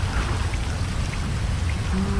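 Steady rain falls and patters densely on surfaces nearby, forming a dense, continuous wash of drops at a constant, fairly loud level with no talking over it.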